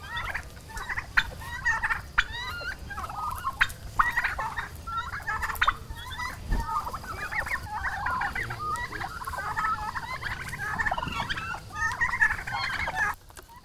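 Domestic turkeys gobble repeatedly in a farm flock, with many overlapping calls at close to mid range that stay loud and continuous throughout, and no one talks.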